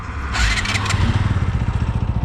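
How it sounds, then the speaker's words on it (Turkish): A motorcycle in sport mode on a long road trip toward Bodrum chugs close by with a rapid, even pulsing beat, briefly revving with a burst of noise before settling into a steady throb. "Valla sport modda motor akıyor gidiyor"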